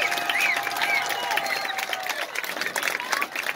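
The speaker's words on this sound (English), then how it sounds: "give one more round of applause for all of our 8th grade football and 8th grade" Crowd applause and cheering at a middle school football game honoring eighth grade football players and cheerleaders, sustained clapping with scattered whistles and shouts, moderately distant.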